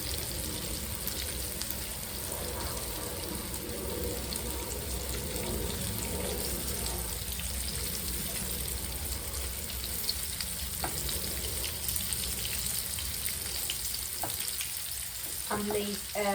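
Corn-flour-coated pork fries in a pan on a large hob ring, giving a steady, close crackling sizzle with constant spitting that runs throughout, with a few clinks near the end.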